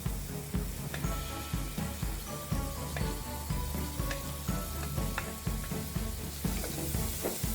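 Chopped carrots fry in a pan while egg fried rice is cooked, giving a steady soft sizzle with rhythmic stirring or scraping strokes repeating about twice a second.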